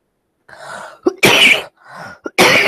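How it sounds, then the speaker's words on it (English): Two harsh, loud coughs up close, each preceded by a rougher throat-clearing rasp, with brief pauses between them. "Apart from my cough."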